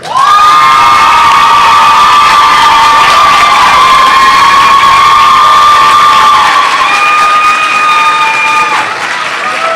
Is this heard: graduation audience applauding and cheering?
yes